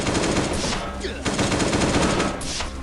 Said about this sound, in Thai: เอาปืน AK ยิงเลยแล้วกันนะ